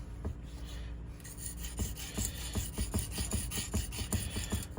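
A knife blade scraped on a soft, abrasive brick in repeated rasping strokes, a steady rhythmic grinding that picks up pace after the first second, close and fairly loud.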